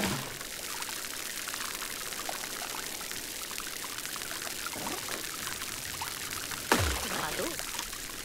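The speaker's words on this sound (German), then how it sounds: "Soll ich dich auch nochmal angießen?" Watering a plant in the video game Grow: Song of the Evertree: a steady pouring and trickling of water runs throughout at moderate level, with a brief louder splash or thump near the end.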